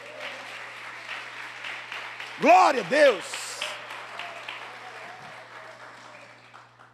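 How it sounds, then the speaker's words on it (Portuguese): A church congregation claps and cheers at a Portuguese-language worship service, two short loud bursts of applause rising over the preacher's voice and then fading back under continued talk. "Aplauda ele por isso,"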